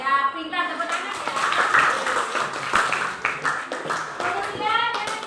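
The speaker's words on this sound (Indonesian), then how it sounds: "pintar, tepuk tangan ya" Children in a classroom clap together in a brisk burst of applause for a classmate's answer, steady and fairly close, with a teacher's voice and kids' chatter mixed in.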